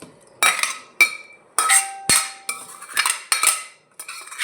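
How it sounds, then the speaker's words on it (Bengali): Metal utensils clink against a pot and casserole dish as potato and ridge gourd poppy-seed curry is scooped across, about eight sharp, close knocks in an irregular rhythm with quiet gaps between. "দেখুন আমি ক্যাসারোলে করে ঢেলে নিচ্ছি।"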